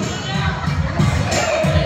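A crowd at a Christmas party pageant contest in Mangaldan cheers and shouts in loud waves, with children's high voices mixed in and an announcer talking over the noise.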